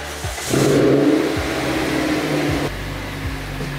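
A Toyota MR2 engine catches and runs with a loud, steady roar, rising briefly as it revs before settling; no talking over it.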